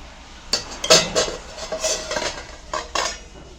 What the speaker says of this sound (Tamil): இப்போது குக்கரை திறந்துட்டு நம்ம கூட்டுக்கு எடுத்துக்கலாம்